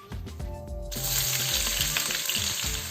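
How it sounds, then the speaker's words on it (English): Two sliced white onions drop into smoking-hot coconut oil in a wok, bursting into loud, close sizzling that holds steady, with light stirring clatter underneath. "Now you want to be stirring these for a little while, until they just start to brown."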